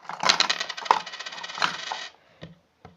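Several coins clatter into a small homemade money box, a burst of bright metallic jingling followed by a few single coin clinks near the mic, with no voices.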